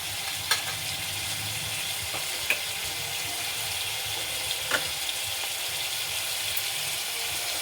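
Hot water goes into a pan of frying chicken stew, making a steady moderate sizzle with a few sharp clinks of a utensil on the pan, and no talking.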